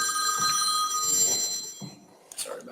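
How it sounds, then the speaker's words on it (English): A telephone rings at a county board of commissioners meeting, a bright, steady electronic ring tone lasting over a second, then fading out as a few muffled voices murmur in the room. "Mark, that's your phone, dude."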